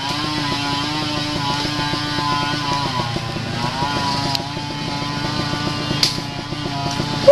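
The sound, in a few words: trail motorcycle engine struggling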